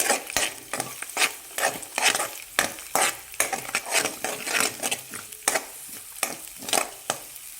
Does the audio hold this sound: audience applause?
no